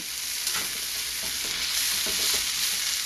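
String beans frying in a wok for a Sichuan dish are stirred steadily, a continuous loud sizzle with scraping strokes of the utensil, close and without talk.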